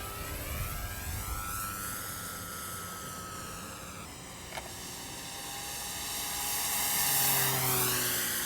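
A Dynam RC model warbird flies at half throttle just after takeoff, its steady electric whine drifting and shifting in pitch as it passes, fairly faint at first and swelling louder toward the end.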